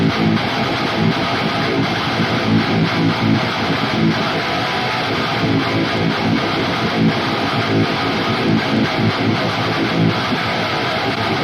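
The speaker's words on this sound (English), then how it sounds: "let's take a listen to what the soloed rhythm tone sounds like" Heavy, distorted rhythm guitar played solo through the Neural DSP Archetype Gojira amp plugin with no other processing; a dense, saturated chugging wall of tone, loud and continuous for the whole stretch.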